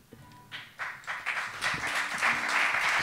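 Applause from a gathered crowd at an anniversary event of a Palma assembly, building up from scattered claps into fuller, louder clapping over three seconds, with a few faint tonal sounds underneath.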